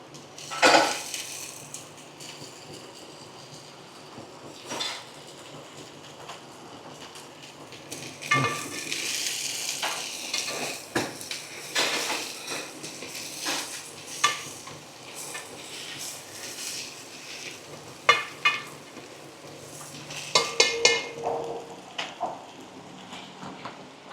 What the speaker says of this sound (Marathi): आता टमाटर ॲड करूया आपण